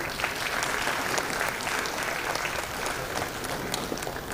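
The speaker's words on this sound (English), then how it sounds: "Another round of applause for Vanisha." A crowd applauds steadily and evenly for several seconds at a university convocation ceremony, with dense clapping and no pauses.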